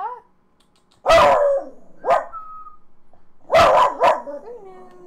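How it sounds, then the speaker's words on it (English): A puppy barks close by in sharp, loud bursts: one bark, a short yip, then a pair of barks, with a thin whine trailing between them. "When your puppy stops your recording."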